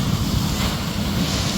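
Ocean surf at a Chennai beach washes in as a steady loud rush mixed with wind buffeting the microphone, with no voices.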